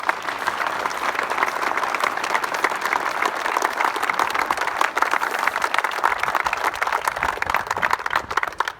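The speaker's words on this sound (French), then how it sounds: "Je vous demande de les applaudir." A French prefectural audience at a 14 July ceremony applauds, steady dense clapping from many hands sustained loud and even for the full stretch without any talk over it.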